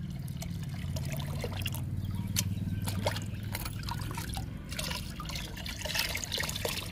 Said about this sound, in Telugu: ఈ పాలని ఇందులో పోస్తున్నాను